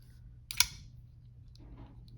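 A Grimsmo Norseman folding knife's detent actuates with a single soft, crisp click near the start, followed by faint handling noise in a quiet room.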